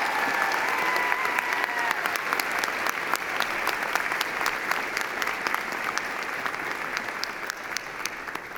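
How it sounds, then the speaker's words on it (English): A convocation audience applauds faculty members seated on stage at a university ceremony, steady dense clapping throughout with a few faint voices and whistles mixed in. "Let's give them a round of applause"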